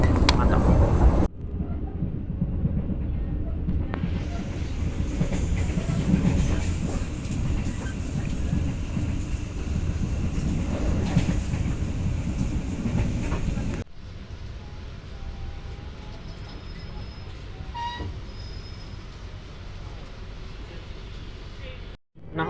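Pandalungan passenger train rolling on rails, heard from inside a luxury dining car: a steady loud rumble and rattle of wheels that drops to a quieter hum near the end, with faint voices in the background.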